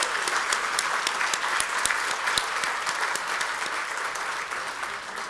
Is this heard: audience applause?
yes